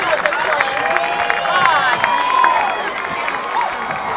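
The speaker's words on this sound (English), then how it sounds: "Let's have another round of applause." A crowd at a college marching band festival applauds and cheers, with dense clapping and whoops spread across the stands, and a voice carrying over the noise.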